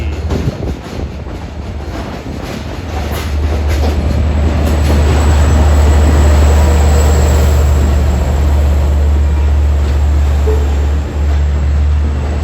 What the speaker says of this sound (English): train to Port Jefferson, now arriving track 4